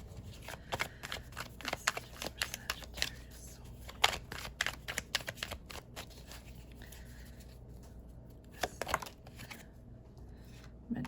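Tarot cards shuffled by hand in steady, riffling bursts of papery snaps and slides, close and moderately loud, with brief pauses between passes and no talking.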